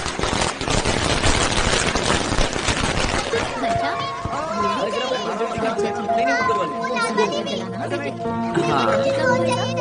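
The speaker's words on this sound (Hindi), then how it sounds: "राजू राजू वहाँ बहुत पटाखे हैं" Firecrackers go off at a festive gathering in a dubbed South Indian film scene: a dense, loud crackling barrage with crowd chatter, which gives way to music and voices.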